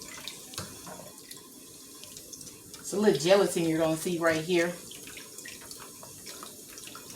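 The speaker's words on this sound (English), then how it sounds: "Just run some water over it." Tap water runs steadily over pork neckbones in a sink, a continuous splashing hiss beneath a person talking close by.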